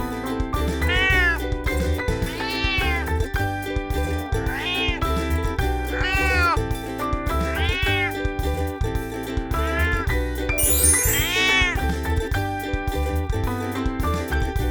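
Repeated cat meows, about eight distinct calls at a steady pace, heard over a bouncy musical backing.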